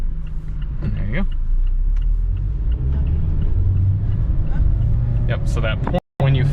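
A 2021 Mazda MX-5 Miata with a manual transmission accelerates from inside the cabin, its engine rumbling steadily and rising in pitch, while people talk over it.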